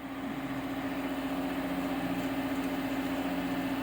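An old Saturn engine on cold idle at about 1800 RPM gives a steady, close, continuous hum with a strong low drone that holds level throughout.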